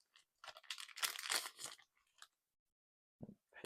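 Crinkly crunching and tearing of foil wrappers as old Topps Terminator trading card packs are opened, a burst of close rustles followed by a short pause and a brief final crinkle.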